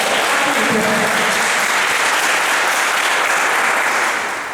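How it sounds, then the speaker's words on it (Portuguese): Loud, dense applause from a congregation at a church prophets' conference, continuous close clapping and crowd noise filling the whole stretch before easing slightly at the end. "Aplauda o Senhor"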